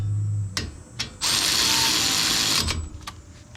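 A ratchet clicks while tightening brake caliper bolts on a 2021 Ford Ranger 4x4 during a front brake job, with a few short bursts, then a rapid continuous ratcheting run, then a couple more brief clicks, close and moderately loud.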